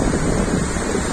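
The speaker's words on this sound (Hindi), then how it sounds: "हवा चल रही है" Wind sweeps across a near-empty beach on the Konkan coast at Shekhadi and Aaravi, a steady, close broadband rush of gusts buffeting the microphone, with a hint of surf beneath and no voices.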